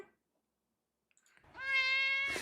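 A soundboard cat meow plays after near silence, a clear, bright, drawn-out mew that swells and holds to the end, preceded by a short faint blip.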